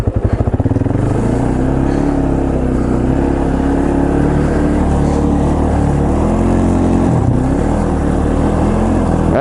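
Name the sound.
2005 Polaris Predator ATV engine revving and bogging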